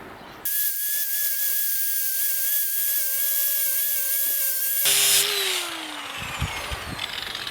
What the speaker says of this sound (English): We've got a flappy disc installed with a pretty coarse grit